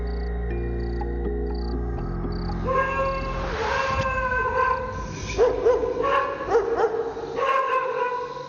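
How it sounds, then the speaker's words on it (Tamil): Street dogs bark and howl outdoors in repeated yelps and wavering cries, moderately close, rising after a steady low hum at the start. "தெருவுல இருக்கிற நாய்ங்களாம் எதுக்காக இப்படி குலைச்சிட்டு இருக்குன்னே தெரியல"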